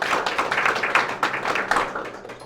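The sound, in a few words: audience applause for the tech team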